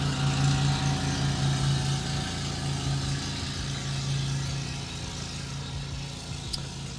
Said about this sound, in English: the lawnmower man's passing again